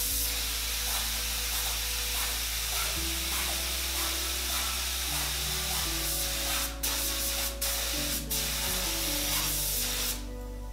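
A 100-year-old DeVilbiss spray gun atomizes with compressed air in a loud, continuous hiss, with a few brief sharp interruptions near the end.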